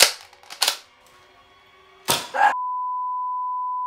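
A small three-shot Nerf Triad dart blaster firing, with sharp, close snaps and thumps spaced over two seconds, then a steady electronic tone.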